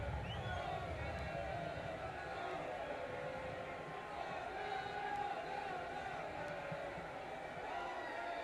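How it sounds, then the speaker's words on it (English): A large crowd of football supporters chants and cheers at a distance during a thunderstorm at a Bayern v Manchester City pre-season friendly, a steady broad roar of many voices under a constant wash of heavy rain. "You can probably still hear the supporters trying to keep themselves entertained with some chanting and some cheering."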